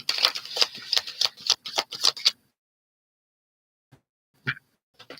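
A deck of tarot cards is shuffled close by in a quick series of crisp riffles and flicks for about two seconds, followed by near silence with a few faint taps.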